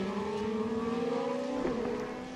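A DTM race car engine during a qualifying race at Zandvoort drones steadily at high revs, with a brief dip and shift in pitch as it changes down a gear, heard continuously without talk.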